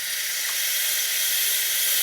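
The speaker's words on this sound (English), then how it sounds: "purge my steam wand" Steady, loud hiss of steam blasting from an espresso machine's steam wand as it is purged, a continuous airy rush holding even for the whole stretch with no voices.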